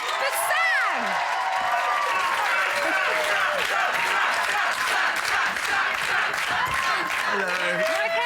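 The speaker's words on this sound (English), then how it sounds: "huge round of applause, please, for Sam!" Studio audience at a live television reality show final applauding and cheering for a contestant named Sam, a continuous loud crowd roar with clapping, whoops and shouts throughout.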